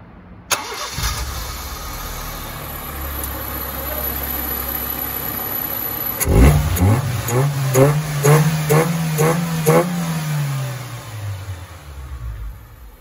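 A 1.3 litre engine in a 2000 Honda Logo GA3 cranks and catches, then revs hard several times in quick bursts before settling back toward idle, loud and close.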